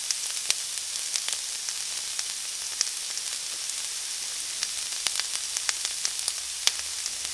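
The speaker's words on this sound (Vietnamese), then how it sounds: "bây giờ mình cho hành tím và tỏi băm vào mình xào cho nó thơm lên nè" Shallots and garlic sizzle and crackle steadily in a hot pan, a constant hiss dotted with sharp pops, no voices.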